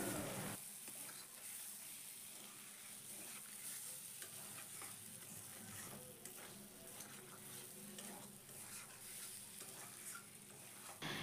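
Spices and potatoes being stir-fried together in a pan for a spicy tangra fish curry, a constant soft sizzle with scraping spatula strokes and stirring noises recurring at an unhurried pace, close up, no talking.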